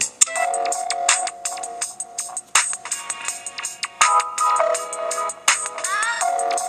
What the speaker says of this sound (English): This is my current default ringtone.